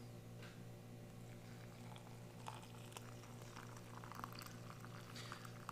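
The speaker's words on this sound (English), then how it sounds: "We're gonna mix this some hot water." Hot water pours steadily into an MRE ration pouch from a French 24-hour ration, a continuous liquid stream over a constant low hum, with faint crinkling and splashing.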